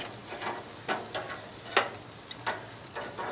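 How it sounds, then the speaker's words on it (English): Onions sizzle on a hot grill as they are flipped, a soft steady hiss broken by several sharp scraping clicks from the turning. "I'm gonna flip over my onions."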